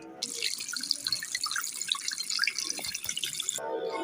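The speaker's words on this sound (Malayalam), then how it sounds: "അല്ല, അതാ ഒരു അരുവി." A forest stream runs steadily, its bright, hissing splash holding constant for several seconds, close and alone with no voices.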